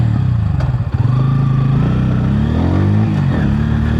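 A 2026 Bajaj Pulsar N160 with a two-valve air-cooled engine runs loud and close, a throaty idle that dips briefly and then climbs in a smooth rising rev, with no speech.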